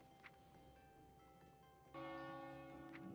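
A World of Warcraft mail notification chimes in as a bright, bell-like tone that swells up suddenly partway through, ringing on over a quiet game ambience with no talking.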